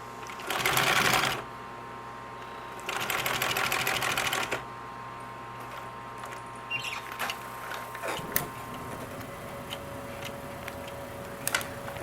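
A sewing machine stitching a seam with a double needle runs in two loud bursts, one short and one longer, followed by quieter ticking and clicking of the mechanism.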